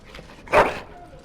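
A single short dog bark rings out, close and moderately loud, with faint background noise around it.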